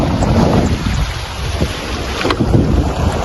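Strong wind and waves around a tiny solo sailboat on the Pacific during the Mini Globe Race: steady, loud roaring wind buffeting with the rush of water, close and continuous.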